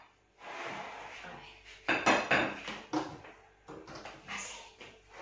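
Boiled egg and potatoes being tipped and stirred into a small salad bowl for a potato and prawn salad, giving a series of close clinks, knocks and scrapes of utensil against the bowl.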